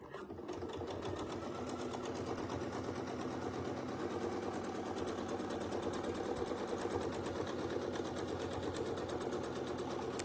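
A sewing machine quilting fabric runs steadily at high speed, its rapid even needle chatter and motor whir continuing unbroken and fairly quiet throughout.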